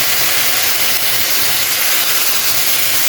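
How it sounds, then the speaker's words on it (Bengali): Coconut milk poured into a hot pan of kochur loti (taro stolons) cooking with salted hilsa, giving a loud, steady sizzling hiss that fills the whole moment without a break. "নারিকেলের দুধটা দিয়ে দেবো এখন"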